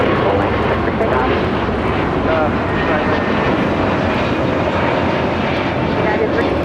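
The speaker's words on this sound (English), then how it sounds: "This is Delta A321 Neo is taking off to Tampa" Steady, loud broadband roar of a Delta Airbus A321neo jet airliner taking off at LAX, sustained and continuous throughout, with talk faintly beneath.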